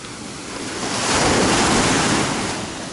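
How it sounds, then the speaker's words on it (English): Strong sea waves break on a Greek beach in the evening, a loud continuous roaring wash that swells to a peak and then eases, with gusty wind buffeting the microphone. "You can see the waves here are actually quite strong."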